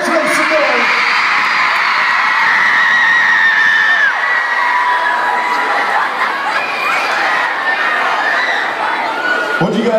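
A large concert crowd of young fans at a Digitour show cheers and screams loudly and continuously, shrill shrieks and whoops blending into a sustained roar.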